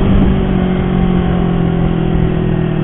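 A running engine hums steadily close by with a faint rising whine, a short continuous drone heard from a vehicle moving along a busy road.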